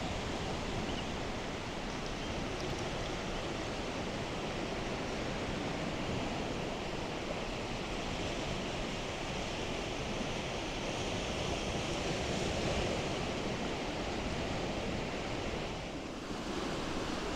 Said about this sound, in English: That's the sound of the tide coming in here in Blackpool.